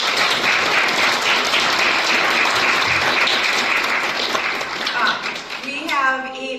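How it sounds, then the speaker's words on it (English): A dense, sustained wash of applause fills a hall as an audience honours the board members, with a voice starting to speak as the clapping fades at the end. "give a round of applause to these board members"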